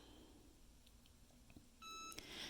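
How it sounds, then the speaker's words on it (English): A faint hum gives way to a steady electronic beep from a heat press timer near the end, followed by a short click. "It beeps, so we're just going to go straight up."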